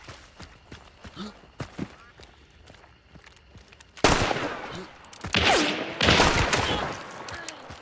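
Pistol shots in Hunt: Showdown, several sharp loud cracks in a cluster after a quieter stretch of footsteps and movement, close and rough, with game ambience under them.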